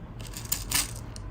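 Translucent, sticky mermaid wax beads for wax stamps rattle and clatter briefly at close range, a short shimmering burst with no talk.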